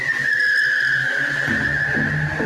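Radio-advert sound effect of a car braking hard, a loud sustained tire squeal and skid running steadily through the whole moment, with low engine rumble underneath and no talking.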